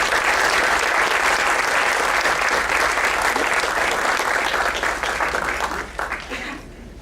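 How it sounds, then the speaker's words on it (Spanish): An audience at a conference on green economy applauds to welcome a speaker, dense sustained clapping that thins out and fades over the final seconds. "Le brindamos un fuerte aplauso y bienvenida."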